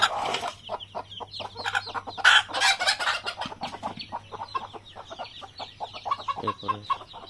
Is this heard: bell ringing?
no